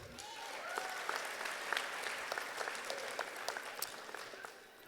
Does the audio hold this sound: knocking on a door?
no